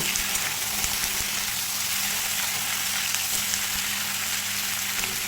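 Mixed vegetables for a mixed vegetable dish fry in a pan over a high flame, giving a dense, even, rain-like hiss that holds steady and close for the whole stretch, with no talk over it.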